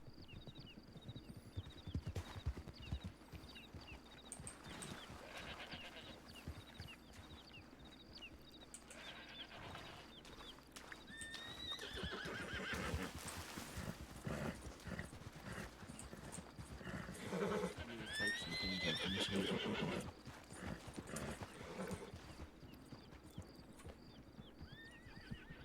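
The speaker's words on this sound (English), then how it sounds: "I hear horses." Video game horses trot with steady clip-clopping hooves while several neigh and whinny, growing busier midway, set against a quiet background.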